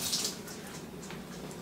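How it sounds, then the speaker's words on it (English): Marinade pours over bacon-wrapped green beans in a pan, a close, steady splashing trickle of liquid that runs continuously and alone. "I'm fixing to pour the marinade over them"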